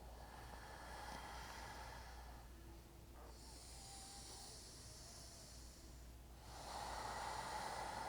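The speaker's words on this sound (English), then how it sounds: "take a couple really deep breaths into your back" Slow, deep breathing during a gentle yoga session, with long airy inhales and exhales that sound close and hissy against a quiet background.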